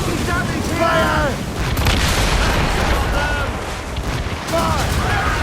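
Ship cannons fire in a naval battle in Assassin's Creed Rogue, heavy booming blasts rolling over a loud battle din while crew members shout between the volleys.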